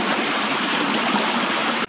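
Storm water during Hurricane Sandy rushes steadily out between a catch basin's body and lid, a loud, close, continuous gushing that cuts off abruptly at the end.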